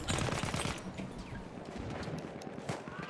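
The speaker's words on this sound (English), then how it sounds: "is that like an AA gun out there in the distance?" Anti-aircraft gun in Battlefield 1 firing in the distance, a rapid rattle of repeated bursts over a steady wash of battlefield noise.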